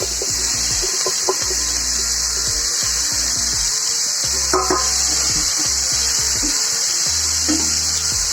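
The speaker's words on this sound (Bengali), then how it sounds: "এখন দিয়ে দিচ্ছে পাস্তা।" Pasta is added to a pan of fried vegetables and moved around, giving repeated scraping and rubbing strokes over a steady high-pitched hiss, with faint clinks and no talking.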